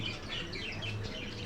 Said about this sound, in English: Those birds seem to be